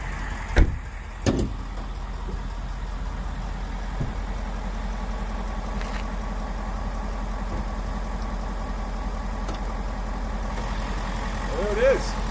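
A low, steady Ford Power Stroke diesel engine in an F-250 Tremor idles throughout, with a couple of sharp knocks or door thuds at the start and faint voices underneath.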